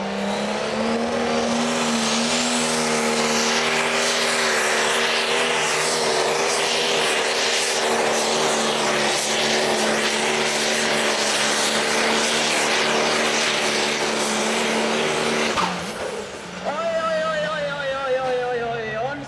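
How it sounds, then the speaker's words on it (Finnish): A John Deere tractor engine revs hard at a tractor pulling event, giving a loud, sustained, steady drone that holds its pitch for a long stretch, then briefly dips and shifts in tone near the end. "Nyt testataan miten John Deere 1 kestää kierroksia."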